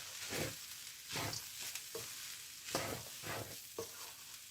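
A spoon or spatula stirs spicy vegetable fried rice in a hot pan, making repeated scraping strokes roughly every second over a soft, steady sizzle.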